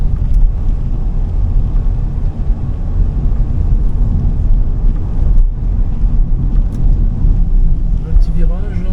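Steady low road rumble and engine drone fill the cabin of a Seat Ibiza FR petrol car driving slowly through a bend past houses, constant and close.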